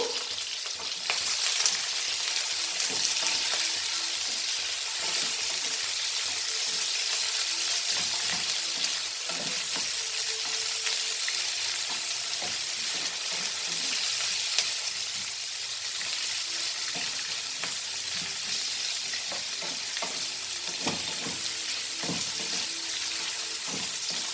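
Steady, loud sizzling of food frying in a pan, continuous throughout with faint scraping stirs and no voices.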